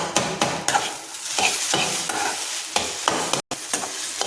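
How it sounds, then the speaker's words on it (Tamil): Cooked Andhra-style egg bhurji being chopped with a ladle in a hot pan over low flame, a series of sharp metal scrapes and taps over a continuous sizzle, close up, with no talking. "அப்படியே கரண்டியை வச்சு நல்லா அப்படியே கட் பண்ணி விட்டுக்கணும்"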